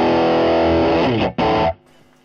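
An electric guitar played through a Marshall Bluesbreaker 2 overdrive pedal rings out with a loud, dirty, sustained distorted chord, cut off briefly, struck again, then muted into near silence.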